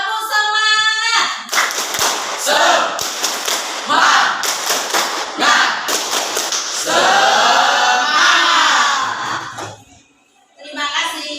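A classroom of students claps the rhythmic 'tepuk semangat' chant, bursts of loud hand claps in patterned groups with shouted voices mixed in, running for about ten seconds before a short pause.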